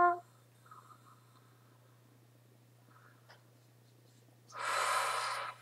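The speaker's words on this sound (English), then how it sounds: "Just breathing in and out." A person doing a guided meditation takes slow breaths, ending in one long, airy, close exhale, over a steady low hum in otherwise quiet surroundings.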